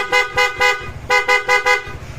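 A PIAA horn fitted to a motor scooter sounds six short, loud blasts close by, in two quick groups of three separated by a brief pause.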